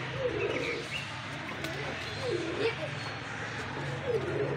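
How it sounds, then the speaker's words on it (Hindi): A homing pigeon, a female, coos near at hand in several soft, rolling phrases, while faint chirps and outdoor background noise carry on around it. "ये आ रही है दोस्तों अब्दुलरहमान की कबूतरी"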